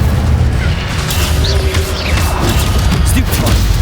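Incendio fire spell cast in the video game Hogwarts Legacy, a loud, dense burst of crackling, booming magic blasting steadily through the whole moment, with busy in-game combat noise around it.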